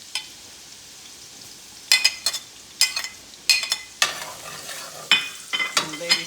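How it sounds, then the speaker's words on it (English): Oil sizzles steadily beneath intermittent bursts of stirring and scraping in a pan, nearby and moderately loud, with no voices. "So I'll start by frying the minced garlic first."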